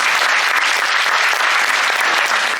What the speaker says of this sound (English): So please give your crew a round of applause.